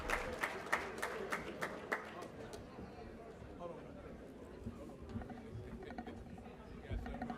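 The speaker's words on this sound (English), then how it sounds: "Y'all give Chris Ray a round of applause for a job well done." Audience applause at a former athletes' association grand gala, a crowd clapping in a dense, steady patter with a few sharper claps early on, mixed with background chatter throughout.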